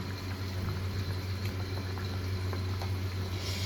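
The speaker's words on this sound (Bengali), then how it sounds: "আমার এই দেখো মাছের ঝোল ফুটছে" Fish curry with winter vegetables simmering in a pot on a kitchen stove, a steady close bubbling and soft patter over a low hum, continuous throughout with no voices.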